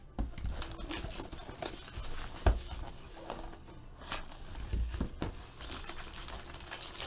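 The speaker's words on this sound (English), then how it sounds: "what I'm going to do is going to pop open this box" Cardboard box of 2016 Upper Deck Marvel Masterpieces trading card packs being opened, with steady crinkling and tearing of wrapping and cardboard, close and moderately loud, plus a few sharper handling knocks.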